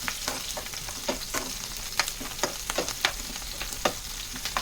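Brinjal and onion with curry leaves sauté in hot oil for a Tirunelveli thokku, giving a steady close sizzle broken by repeated sharp stirring scrapes and spatters.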